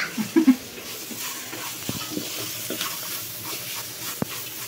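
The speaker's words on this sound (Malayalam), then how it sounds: "അതിലേക്ക് തന്നെ അരിഞ്ഞ തക്കാളി ഇടാം. ഈ ഒന്ന് കുറച്ച് വെച്ചിട്ട് തക്കാളിയും കൂടെ ഒന്ന് വഴന്ന് വരട്ടെ" Chopped tomatoes sautéing in a pan for soybean masala: soft stirring with a faint sizzle, a few muffled scrapes early on, and a couple of sharp utensil knocks against the pan.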